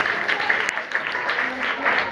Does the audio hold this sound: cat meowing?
no